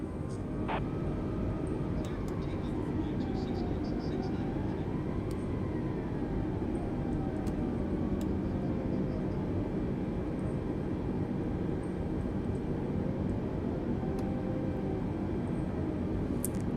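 A heavy jet airliner rolls for takeoff on runway 26, its engines a steady, loud broadband roar with a rising and falling turbine whine held throughout.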